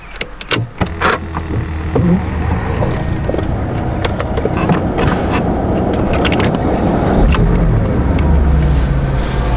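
A Porsche Turbo S engine gives a loud, steady rumble that fills the cabin, deep and continuous, with a few sharp clicks and knocks near the start.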